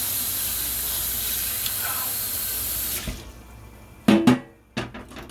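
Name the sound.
washing something in the sink under running tap water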